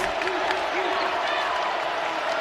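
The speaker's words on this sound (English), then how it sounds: "LSU with the ball, crowd trying to make some noise." Crowd noise inside a basketball arena during an LSU–Georgia game, a steady roar of voices and cheering that holds evenly loud with no break for the whole moment.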